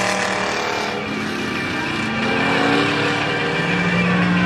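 Race cars circling Langley Speedway in a crash-heavy event, a steady loud roar of several engines with a rising whine as cars pass near.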